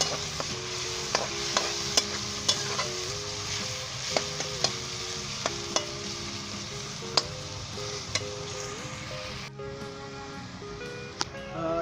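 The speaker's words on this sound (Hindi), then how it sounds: "तेज़ आंच के ऊपर आपने इसे 5 मिनट के लिए भूनना है" Onion, ginger and garlic fry in a wok over high heat, a steady close sizzle broken by regular sharp clacks of a spatula stirring, with no talking.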